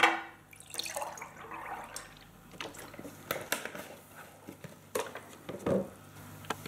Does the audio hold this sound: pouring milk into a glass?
yes